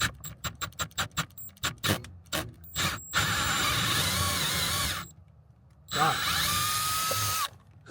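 A Milwaukee M12 FUEL installation drill with a fresh bit bores a hole, starting with a string of short rapid bursts before two longer sustained whirring runs separated by a pause, close and fairly loud.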